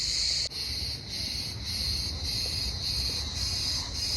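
A loud, steady insect drone of cicadas buzzing high and shrill in Turkey, with brief rhythmic dips every half second or so, nearby and continuous.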